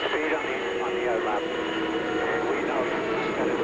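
A 2007 Champ Car race car's engine winds up to speed at the Cleveland Grand Prix, a continuous rising high whine with a steady broadband roar, heard under a commentator's voice.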